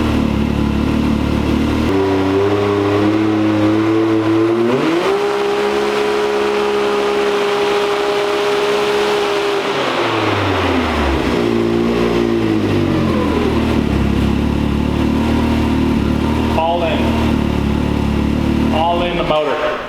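A 2022 Can-Am engine with a performance tune revving loud and close, its pitch climbing and holding in long pulls, then dropping and rising again, with voices talking over it.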